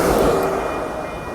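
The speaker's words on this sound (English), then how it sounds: "there go that train northbound to Sacramento" An Amtrak Capitol Corridor passenger train passing northbound on 98th Avenue in Oakland, California, a loud, close, broadband rumble and rush of rolling cars that fades slightly as it goes by.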